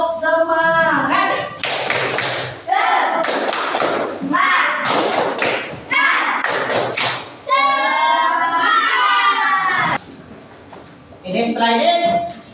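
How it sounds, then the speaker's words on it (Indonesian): A fourth-grade primary school class performs a rhythmic group clap, bursts of sharp hand claps alternating with children chanting together in loud patterned phrases. "Untuk refreshnya kita tepuk semangat."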